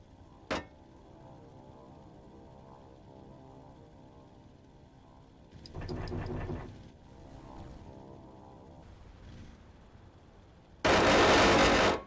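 Explosions and gunfire in a flight combat video game: a sharp blast early on, a loud burst of rapid crackling fire around the middle, and a heavy roaring blast near the end, over a steady engine drone.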